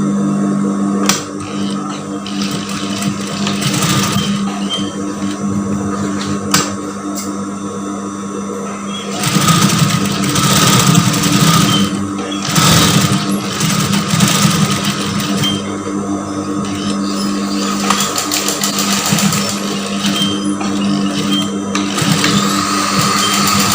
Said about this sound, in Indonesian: bagian ini kita jahit dulu